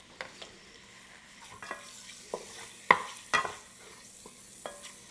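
Bacon frying in andouille grease for red beans and rice, a steady soft sizzle broken by several sharp spoon-stirring scrapes and clacks against the pot.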